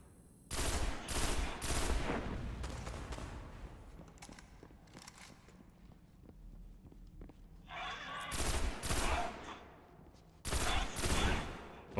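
Gunfire in the video game Destiny, where loud bursts of rapid automatic shots come in clusters near the start, the middle and the end, separated by quieter stretches of game ambience.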